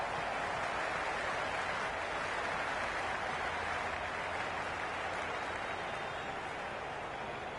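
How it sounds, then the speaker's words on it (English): A stadium crowd at a cricket match in the video game Cricket 26 roars and claps in a dense, continuous wash of noise, steady and fairly distant, with no clear voices standing out. "It's evident and ever so audible that the crowd is at near bursting point at today's play."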